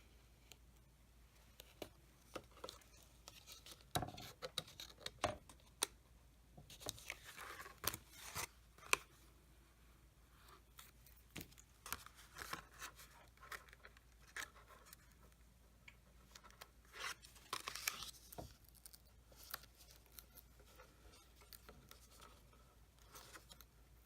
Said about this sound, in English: Now we can carefully take the tape off.